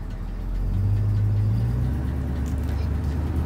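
A 1985 GMC High Sierra pickup truck pulls away. Its engine rises into a steady, fairly loud mid-pitched hum and holds there for several seconds without speech.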